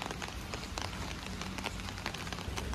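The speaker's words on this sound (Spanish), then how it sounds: "Cuando llueve como hoy" Heavy rain from a downpour pounding steadily on surfaces outside a home, a dense, even hiss of many drops with no pauses, close and fairly loud, with no talk.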